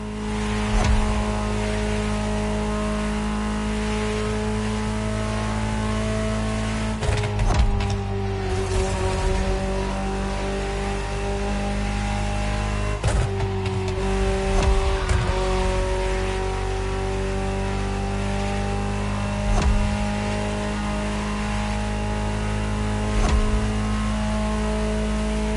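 A Ferrari sports car engine in The Crew Motorfest video game drones steadily with sustained harmonic tones, occasional revs and shifts in pitch, loud and close throughout.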